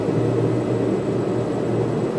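The twin turboprop engines of a Piaggio P.180 Avanti II in a flight simulator game drone steadily and loudly as they are throttled up, a dense, even roar that holds through the whole short stretch with no voices over it.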